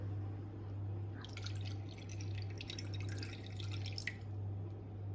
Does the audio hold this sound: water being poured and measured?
yes